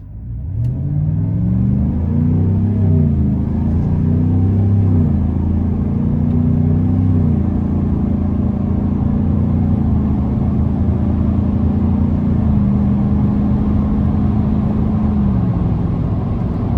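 A 2025 Chevrolet Silverado 1500 ZR2 pickup engine revs up steadily and loudly in sport mode, its pitch climbing and dropping through several gear shifts before settling into a sustained drone.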